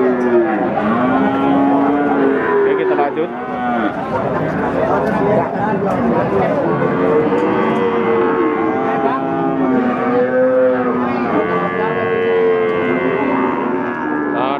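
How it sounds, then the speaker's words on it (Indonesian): Cattle at Pon livestock market in Pati moo repeatedly in long, low calls over a busy crowd of chattering voices, with a person speaking briefly. "adalah sapi-sapi pacetan dari pasar sapi pon"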